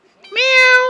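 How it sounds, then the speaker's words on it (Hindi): A cat gives one clear, loud drawn-out meow, rising in a brief onset and then holding steady close by in an otherwise quiet hillside village setting. "यहाँ पर ये सब लोगों का बिल्ली है"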